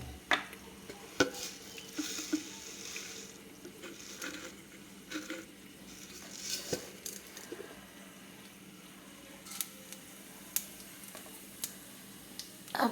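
Mustard seeds and a little cumin crackle in hot oil for a vegetarian tempering, with scattered pops and light clinks of a pan over a steady low sizzle, close and moderately quiet, no talking.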